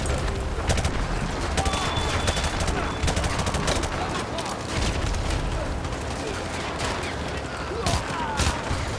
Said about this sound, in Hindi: व्हाइट हाउस पर से लगातार फायरिंग हो रही है